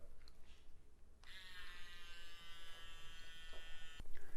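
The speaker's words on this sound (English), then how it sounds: "So it just felt like a normal electric toothbrush." A hands-free automatic electric toothbrush runs inside the mouth with a steady high-pitched buzzing hum lasting nearly three seconds, starting abruptly and cutting off with a click over faint background noise.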